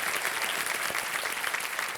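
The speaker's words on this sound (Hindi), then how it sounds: "तालियां बजाएं इनके स्वागत के लिए" A studio audience claps steadily for a newly welcomed contestant on the Indian quiz show KBC High Flyers, a dense, continuous wash of applause at even loudness throughout.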